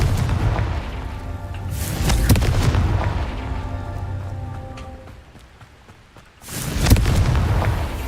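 Confringo blasting spells explode in Hogwarts Legacy, giving heavy booming blasts with a rumbling decay. Two loud bursts come near the start and another hits near the end, with a quieter lull between them.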